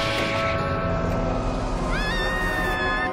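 A cat meows in a horror film scene by the doorway of a grandmother's house, a single rising, drawn-out cry in the last second, half-buried under a dense, loud droning score.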